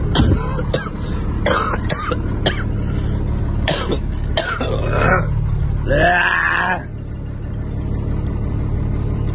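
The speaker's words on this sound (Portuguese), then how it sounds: "Tô com uma tosse velha é chata, desgramada" Several harsh coughs from a lingering old cough and throat-clearing grunts over a steady background hum, one drawn-out rasping clear near the end.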